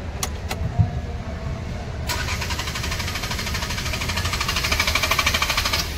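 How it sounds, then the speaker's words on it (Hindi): A Maruti Eco with a starting fault, its starter cranking the engine in a steady rhythmic whir that never catches. A few sharp clicks come first, all close up with no talking. "सेल्फ मारते हैं तो गाड़ी स्टार्ट नहीं होती"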